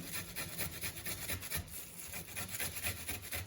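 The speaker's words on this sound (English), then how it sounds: "You just grate the ginger in quickly" Fresh ginger is grated quickly into a dish for grilled beef short rib, giving a rhythmic series of quiet, close rasping strokes with no talking.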